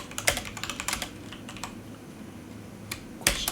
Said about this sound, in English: let's go ahead and type in here the messages I want to send